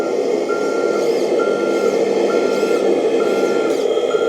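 Reversing beeper of a 1/14-scale RC tractor truck, a regular series of short electronic beeps about every half second over a steady electronic hum, close and clear.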